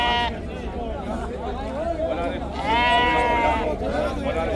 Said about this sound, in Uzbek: bugun qo'ylar juda ko'p kelgan.